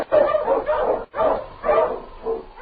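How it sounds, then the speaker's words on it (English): Sled dog barking from a 1940s radio drama set in the snowy Yukon, an Eskimo lead dog giving a series of loud, close yips and barks in bursts with a short pause midway. "The Wonder Dog King, swiftest and strongest of Eskimo lead dogs, blazes the trail through storm and snow for Sergeant Preston"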